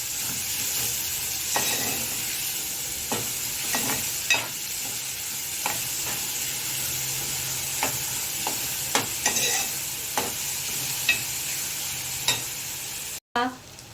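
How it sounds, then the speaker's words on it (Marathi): Onions fry and soften in a pan for a chicken dish, a continuous sizzle with a spoon scraping and stirring at irregular intervals, close and fairly loud with no talking. "तर हे कांदे आपल्याला व्यवस्थित याच्यामध्ये फ्राय करून घ्यायचे फ्राय करून मऊ होईपर्यंत कांदा व्यवस्थित आपल्याला परतवून घ्यायचे आहे"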